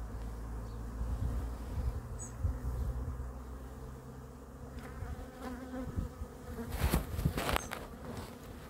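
Honeybees buzzing close around a hive, a steady hum with a few louder passes and sharp bumps as bees strike a phone held nearby.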